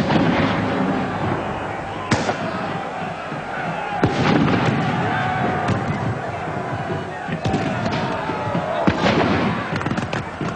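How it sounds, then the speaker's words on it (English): Battle sound effect of musket volleys and gunfire, with sharp cracks and booming shots bursting repeatedly over a dense crowd-like roar of battle, loud and continuous. "The musketeers fired volley after volley"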